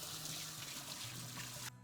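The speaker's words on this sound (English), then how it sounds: "I will just wash my hands." Tap water runs steadily into a sink during handwashing in a kitchen, a soft close hiss and trickle that cuts off abruptly near the end, with no talking.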